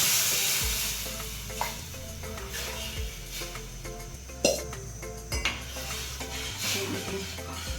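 Garlic, cloves, star anise and green chillies crackle in hot oil for a Gujarati kadhi tempering, a steady close sizzle broken by scrapes and clinks of a spoon against the pot.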